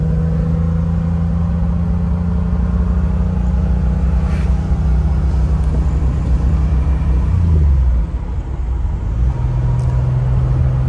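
Air-cooled 1980s-era Porsche 911 SC Targa with a 5-speed transmission driving a mountain road, its flat-six engine droning steadily up close, then dropping in pitch on a gear change and pulling again, with no talking.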